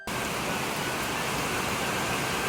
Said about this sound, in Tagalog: Hanggang ngayon wala pa rin tigil yung ulan.